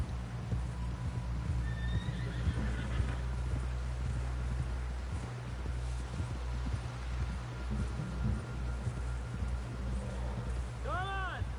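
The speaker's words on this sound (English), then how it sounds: "Someone help John down off this horse." Horse whinnies and clip-clopping hooves from Red Dead Redemption 2, with a neigh near the two-second mark and a louder, rising whinny at the end over a steady low rumble of game ambience.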